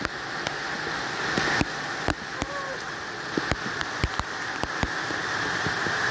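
Steady rain patters on a surface, a dense hiss broken by scattered sharper drip taps, continuous and moderately close with no talking.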